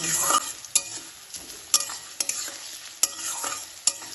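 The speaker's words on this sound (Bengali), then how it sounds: "পেঁয়াজটা তেলের সাথে ভালোভাবে ভেজে নেব" Chopped onion fries in hot oil with a steady sizzle, punctuated by regular sharp scrapes and taps of a spoon stirring against the pan, close and clear with no voices.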